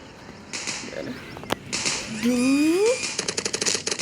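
Shots ring out in a shooting video game, with single sharp cracks followed by a rapid burst of gunfire. Game sound effects, including a rising tone, play between the shots.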